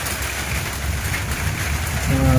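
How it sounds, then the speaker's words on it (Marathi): Heavy rain pours steadily in a dense broadband hiss, growing slightly louder toward the end, with a low rumble underneath. "किती पाऊस आहे बघा आता पाऊस असं चालू झालं आहे"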